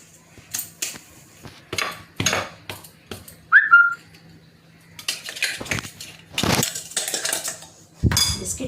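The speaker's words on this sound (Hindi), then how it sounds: "अब मैं इसको बाउल में डाल देती हूँ।" Ground biscuits, 100 grams in all, are tipped into a bowl for an eggless cake batter: scattered clinks, scrapes and soft rustling bursts, close and fairly loud, with a brief whistling squeak midway.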